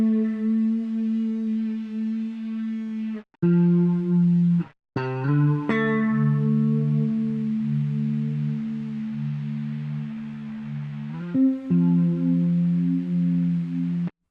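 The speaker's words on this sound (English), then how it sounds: "we've got the eternity delay, which is set to this broken tape player thing, which gives it that bit crushy type thing." Sustained synth tones run through the Arturia Eternity delay on its broken tape player setting, bit-crushed and warbling with gritty distortion, the pitch stepping between held notes with short breaks, loud and alone.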